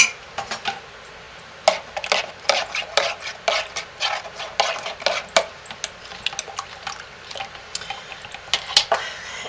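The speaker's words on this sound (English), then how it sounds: "a half a teaspoon of Essential Depot's turmeric spice and a fourth of a teaspoon of Essential Depot's aconite root, and we're going to stir those up" Turmeric spice and aconite root powder get stirred by hand for no-lye soap, giving quick, close, crisp scraping clicks and taps against the container in an uneven rhythm with no voices.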